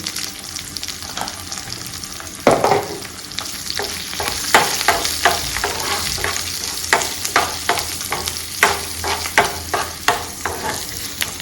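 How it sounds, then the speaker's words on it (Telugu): Urad dal, mustard seeds and cumin fry in hot oil while a ridge gourd curry is made. A loud, steady sizzle runs throughout, broken by a regular series of scraping stir strokes close by, with no talking. "ఇది వేగుతూ ఉంటుంది."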